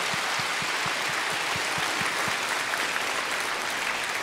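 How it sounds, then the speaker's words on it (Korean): A church audience gives sustained, dense applause at a steady level, with a low rhythmic thumping beat under the clapping in the first half. "우리 그분들을 위해서 감사의 박수 한번 하겠습니다"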